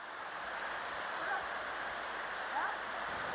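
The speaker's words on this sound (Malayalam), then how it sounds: "അങ്ങനെ ഞങ്ങൾ നടന്ന വെള്ളച്ചാട്ടത്തിലെത്തി." Steady roar of a large waterfall in Kottayam district, Kerala, a dense continuous broadband rush heard close and loud throughout with no pause.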